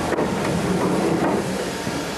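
Continuous low roar of a London train heard from on board, steady and fairly loud with some wind-like hiss, and no voices.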